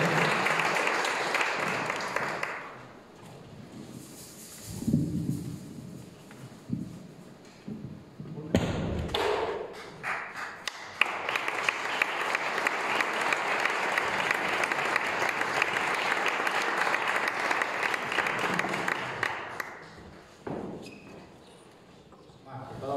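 Audience at a Spanish cultural gathering breaks into applause, a broad wash of clapping that starts, dips amid some speech and thumps, then swells again into a sustained loud ovation lasting several seconds before tapering off.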